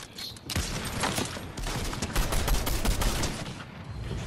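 Video game gunfire crackles in rapid, dense bursts of shots throughout, at a moderate distance and fairly quiet in the mix.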